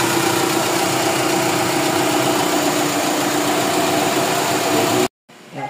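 A Mitsubishi Fuzion 4G64 engine idles steadily as it warms up, a continuous close mechanical drone that cuts off abruptly near the end.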